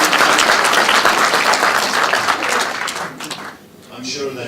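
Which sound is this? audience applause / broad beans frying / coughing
audience applause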